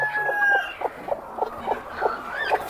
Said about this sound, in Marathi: एक एक दोन दोन कोंबड्या दाखवा